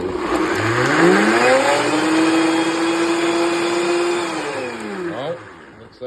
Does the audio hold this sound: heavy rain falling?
no